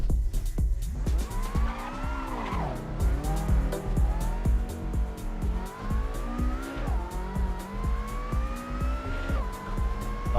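A race car on road semi-slick tyres in a sim racing game, its engine note rising and dropping through repeated gear changes and braking while the tyres squeal and skid through corners, with the whole run held at a moderate level.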